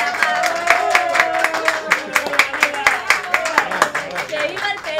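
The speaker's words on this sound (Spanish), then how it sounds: "vamos a brindar un fuerte aplauso para Mauro" Lively hand clapping from guests at a Peruvian restaurant applauding Mauro, rapid overlapping claps, loud and near, with voices and cheering mixed underneath.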